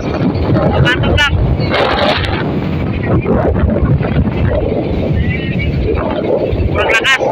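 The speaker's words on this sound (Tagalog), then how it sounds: "Sobrang lakas, sobrang lakas ng hangin pati alon." Loud wind buffets the microphone continuously while waves and a boat motor rumble beneath, with brief bursts of voices shouting over it during a sea rescue of a capsized boat.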